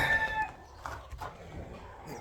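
Chickens cluck softly inside a farm hen house, close and fairly quiet, with scattered brief calls over a low background.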